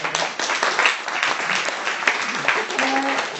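Conference audience applauds for a few seconds, dense steady clapping filling the room, near and fairly loud, with a voice faintly under it.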